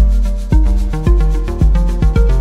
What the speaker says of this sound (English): And I'm going to play just a simple drum track for a sense of time.